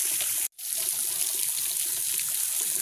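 Water flows steadily into a tilapia fish tank, a continuous splashing trickle with a very brief break near the start, moderately loud and close.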